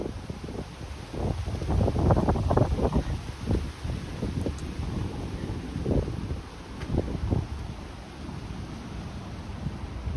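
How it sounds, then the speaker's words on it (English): Gusty outdoor wind buffeting the microphone during a walk through city parks, with uneven low rumbling bursts and a faint steady hiss behind them. "I have to be careful because I don't want the wind blowing anything in my eyes"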